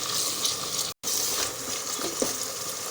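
Onion and tomato with spices frying in a pan, a steady broadband sizzle with faint stirring scrapes and a brief dropout near the start, close and continuous with no talk.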